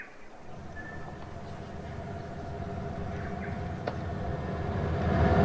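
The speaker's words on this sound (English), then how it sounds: "I hear a lot of trains." Trains in the railway game Rolling Line: a continuous low rumbling drone with faint tonal whines and a brief high squeal, steadily growing louder toward the end, with no voices.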